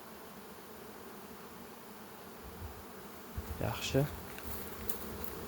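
A continuous, low buzz of honeybees rises from the hives around a beekeeper, with someone briefly speaking partway through.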